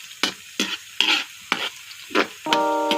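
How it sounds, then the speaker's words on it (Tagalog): Garlic and onion sauté in a pan over a wood fire for tinolang manok, with six quick sizzling bursts as the mix is stirred, each short and crackly, close and fairly loud. "Ginigisa na po natin."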